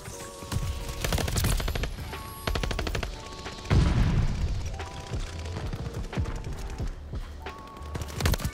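Rapid bursts of submachine gun fire in a video game crackle in repeated volleys, loud and close, with a heavy thud or explosion partway through amid game action noise.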